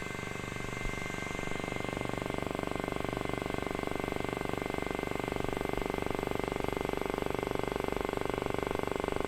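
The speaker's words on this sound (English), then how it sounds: "the turbomolecular pump spinning up. This makes a loud sound" A MiniTEM microscope's turbomolecular pump spins up with a loud, steady mechanical whine, a constant high tone and rapid fine pulsing, continuous throughout.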